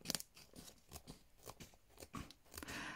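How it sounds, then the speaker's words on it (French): Scissors cut close to the weld seam of a plastic pouch, making a quick series of soft, close snips and crisp crunches. "je coupe quasiment à ras de la soudure"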